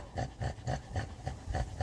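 Quick, rhythmic panting from two dogs, each breath a distinct burst in an even beat of roughly four per second, near and fairly loud with no voices.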